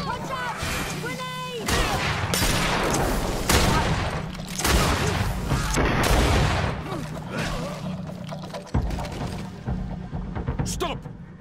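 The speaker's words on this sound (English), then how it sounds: "Watch out! Grenade!" A grenade blast and gunfire in the video game GreedFall, a chaotic fight of booming impacts and rapid shots under shouting voices and battle music, loud and continuous.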